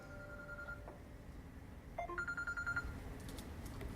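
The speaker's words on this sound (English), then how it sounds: "forgot to shut my phone off, sorry" A mobile phone rings during an amateur radio club meeting, two bursts of electronic ringtone at moderate distance over a quiet room hum.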